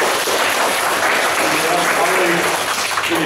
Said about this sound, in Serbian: Aplauz jedan.